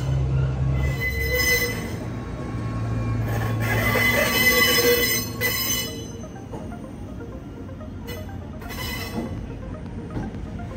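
Locomotive No. 5 rolls in on the rails to haul a long train of eight double-deck Green cars in Japan, its steel wheels squealing loudly over a heavy, close rumble, with no voices.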